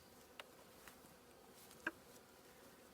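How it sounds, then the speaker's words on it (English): Honeybees humming softly inside an opened hive box, a faint continuous drone with a few light taps and knocks. "That's a lot of bees"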